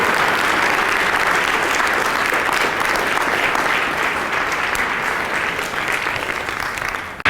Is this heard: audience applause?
yes